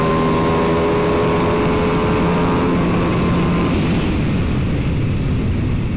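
Ducati Panigale V2 S sport motorcycle pulling hard on the throttle out of a bend, a loud sustained engine roar with rising tonal whine that fades and thins toward the end.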